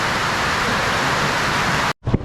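Steady broadband hiss of heavy rain, loud and close, cutting off abruptly near the end before a brief muffled sound.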